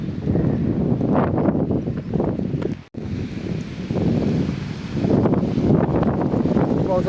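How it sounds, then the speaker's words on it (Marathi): Strong wind gusts outdoors, buffeting the microphone with loud low roaring rumbles that surge and ease, mixed with faint rustling. "हवा बी मजबूत चालू आहे"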